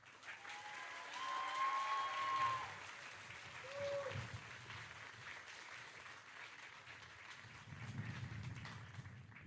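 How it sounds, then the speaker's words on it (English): An audience at a military graduation ceremony for new American soldiers claps in a broad, distant round of applause, with faint voices and whistles mixed in. "please join me in a round of applause for the newest American soldiers"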